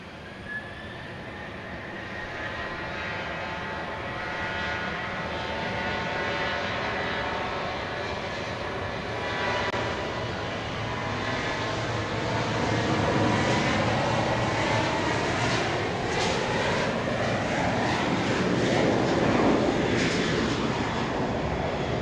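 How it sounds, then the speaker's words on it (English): A Boeing 737-700 departs Dallas Love Field at night on a flight to Pensacola, Florida, its jet engines roaring steadily and building louder toward the end as it climbs past, with no talk over it. "Here goes flight 3762 to Pensacola, Florida, 737-700."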